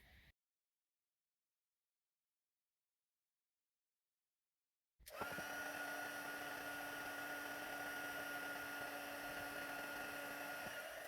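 After about five seconds of near silence, a heat embossing tool switches on to melt white embossing powder on a birthday sentiment for a paper gift box, giving a steady, even blowing whir that continues to the end with no voices.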